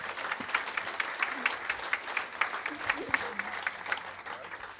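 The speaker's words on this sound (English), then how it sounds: "big round of applause." Audience at a community meeting claps steadily, a dense patter of many hands continuing throughout at moderate distance, with a few voices calling out under it.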